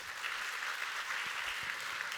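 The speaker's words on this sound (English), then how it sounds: "Daniel, please give him a round of applause." Steady applause from a crowd, an even wash of many hands clapping without pause for a couple of seconds.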